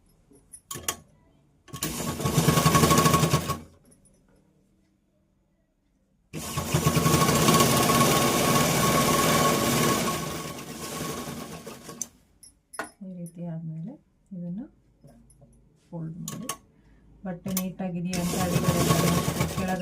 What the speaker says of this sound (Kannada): ಇದನ್ನು ಈ ರೀತಿ ಇನ್ನೊಂದು ಫೋಲ್ಡ್ ಮಾಡಿ ಮೇಲೆ ಹೊಲಿಗೆ ಹಾಕ್ಕೊಳ್ಳಿ